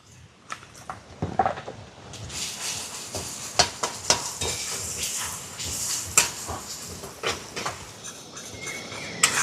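Panch phoron spices and grated ginger with turmeric frying in hot oil in a pan for vegetable chops: steady sizzling with repeated scrapes and clinks of a stirring spoon against the pan.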